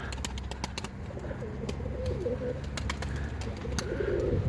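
Tumbler pigeons coo softly near a rooftop loft, with scattered sharp clicks or wing flutters over a low background hum, moderately close.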